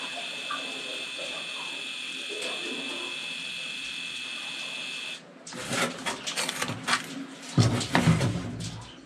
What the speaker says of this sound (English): got a real cheap little dynamo label creator thing here, label printer